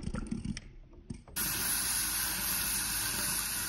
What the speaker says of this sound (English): Drain and rinse them!